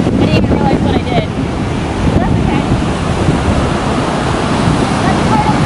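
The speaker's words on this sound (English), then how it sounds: "it's kind of windy out today" Strong wind buffeting the microphone at a beach, a loud continuous rumble mixed with surf wash and no break throughout.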